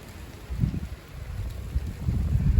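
Gusty wind outdoors on a rainy day in France buffets the microphone with deep, uneven rumbling surges that rise and fall over a couple of seconds.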